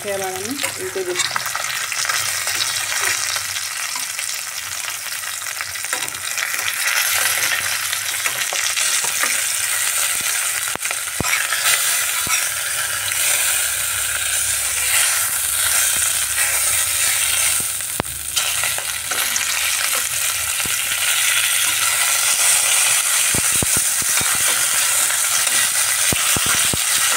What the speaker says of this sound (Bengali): মাছগুলোকে এবার আমি উল্টে দিচ্ছি।